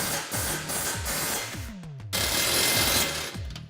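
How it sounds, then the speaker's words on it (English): Bolts being fully tightened on the radius arms of a Polaris RZR Turbo S during a rear bumper install, a close, steady mechanical rattling of a power tool running almost continuously with a brief pause partway through. "we're going to go ahead and go through and fully tighten them"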